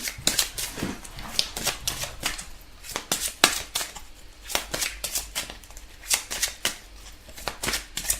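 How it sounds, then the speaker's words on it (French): Tarot cards handled and covered on a table: rapid, close flicking, slapping and sliding of card stock in an uneven rhythm, fairly loud and without talk. "Alors, on va recouvrir ces cartes."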